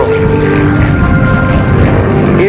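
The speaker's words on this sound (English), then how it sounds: "The airplane climbing now through the vertical" A P-51D Mustang propeller fighter climbs vertically during a Navy air show display, its piston engine a loud, steady droning roar that fills the whole moment without letup.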